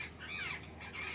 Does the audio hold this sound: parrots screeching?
yes